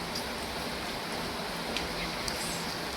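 Heavy rain pours down in a steady, dense hiss with no break, close and fairly loud throughout, with no voices.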